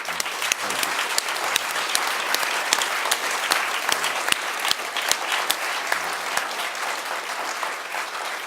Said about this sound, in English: if you can join me one more time in applause for both our award winners and our other panelists.